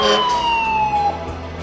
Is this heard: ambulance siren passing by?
yes